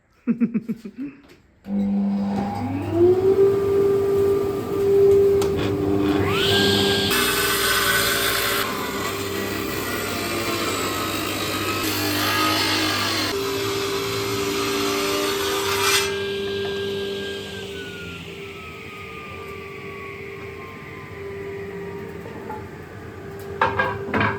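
A handheld power router cuts recesses into wood for light fittings, with dust extraction running: a loud, steady high whine that holds for many seconds, rising into harsher bursts of cutting as the bit bites, then easing back.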